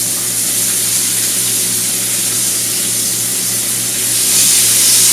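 Onion rings sautéing with mushrooms in a pan with a little oil, giving a steady, close, hissing sizzle that holds even throughout and swells slightly louder near the end, with no talking.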